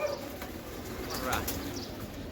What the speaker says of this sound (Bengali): এটা হলো এই মাদি কবুতরটা একটা হলো নর কবুতরটা